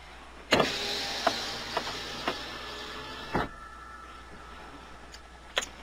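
A car's right power window whirs as it moves, a steady electric motor hum that starts with a click. Several small ticks and thumps land along the way, and a final click comes near the end. No voices are heard.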